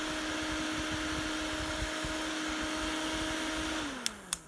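A small handheld portable mini fan with color-changing LED lights runs with a steady whirring hum and motor whine, then its pitch drops as it spins down, followed by two sharp clicks near the end.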